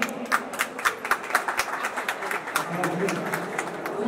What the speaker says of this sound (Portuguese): Vamos dar uma palmas aqui.